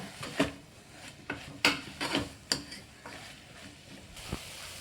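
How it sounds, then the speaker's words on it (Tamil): A spoon scrapes and knocks irregularly against a pan while mutton kurma masala is stirred over a low flame, with soft, separate strokes close by over a quiet sizzle. "அடுப்பை சிம்மில் வச்சுட்டு கிளறி விட்டுருங்க"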